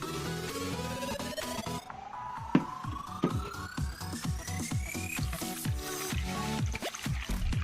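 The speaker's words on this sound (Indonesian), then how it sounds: "Langsung saja kita masukkan air dan kapur sirih untuk merendam ubi rambatnya" Water mixed with slaked lime is poured over sliced sweet potato to soak it, a close trickling pour whose pitch rises steadily as the vessel fills, with splashy gurgles throughout.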